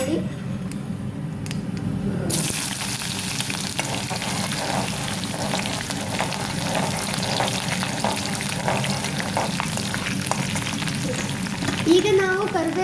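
Green chillies dropped into hot oil for a raw mango stir-fry set off a sudden loud sizzle a couple of seconds in, which then crackles on steadily close up, with a voice briefly audible.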